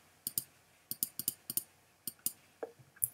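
A series of sharp, close clicks in quick pairs and singles, a computer mouse clicked repeatedly while editing in Photoshop, in a quiet room.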